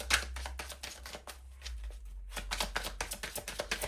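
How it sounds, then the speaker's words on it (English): Tarot cards being shuffled by hand in a quiet room, a run of crisp rapid riffling and flicking bursts with a short pause midway, close and moderately loud over a low steady hum. "I'll shuffle the cards up."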